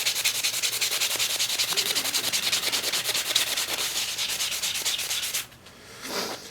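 Hand sanding a knife handle with a medium grip block gives a steady, rhythmic rasp of close back-and-forth strokes that runs for about five seconds, then stops, followed by one brief softer rub.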